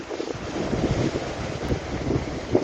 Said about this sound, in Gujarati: પોરબંદરના દરિયામાં જબરજસ્ત કરંટ દેખાઈ રહ્યો છે